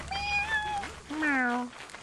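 Two cat meows in the video game Lethal Company, one short and one longer and rising, clear and fairly close with faint game background between.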